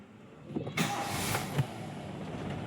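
A Toyota Big Body car starts up with a single crank that catches into a steady engine idle, close by, with no talk.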